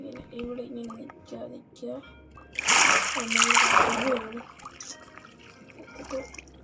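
Water splashes and pours for a couple of seconds mid-clip in Minecraft, a bright watery burst with a person talking before and during it.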